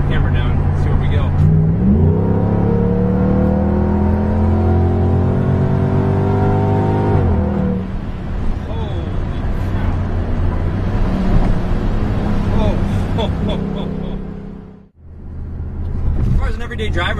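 A supercharged Jeep Grand Cherokee SRT8 of about 575–600 horsepower accelerates hard from around 50 mph, with a loud rising engine note and supercharger whine, an upshift, then steady cruising roar and a brief lift-off.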